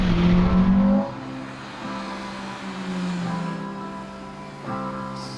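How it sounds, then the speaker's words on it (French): A high-revving engine of an eighth-generation Honda Civic Type R (FN2) screams near redline, drops off, then climbs again in a few sharp bursts, loud and close. "C'est une Honda Civic de 8ème génération, c'est une version Type R"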